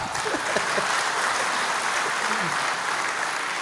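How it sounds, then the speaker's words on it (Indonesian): Steady applause from an audience of police officers at a speech, dense and continuous clapping throughout, fairly loud with no pauses. "Tepuk tangan dong, boleh lah."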